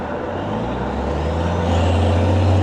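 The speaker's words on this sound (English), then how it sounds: "Truck sounds like it has a flat tire" A truck with a flat inside dual tire rolls past close by, a loud steady low rumble and engine drone that builds slightly in strength.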